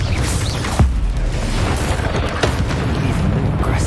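A Confringo fire spell bursts in the combat of the Hogwarts Legacy video game, a loud boom over dense ongoing game noise, with a sharp pop near the start and another blast later.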